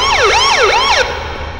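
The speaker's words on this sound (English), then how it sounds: "Why is it keep doing a police sound?" Wailing police-style siren in the video game Survive the Night, loud and close, sweeping up and down in about three rising-falling cycles before cutting off abruptly, leaving a low background hum.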